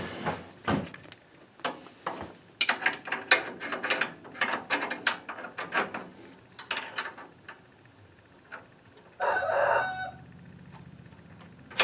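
Wrench tightening a brake line fitting on a Chevy C10 during a drum brake job, heard as a run of close, irregular clicks and scrapes, ending in a brief rattling burst.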